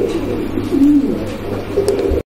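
Pigeons at a sale, a female among them, coo in low throaty bursts that rise and fall close by over a steady background hum, with no talking, before a brief sudden dropout near the end.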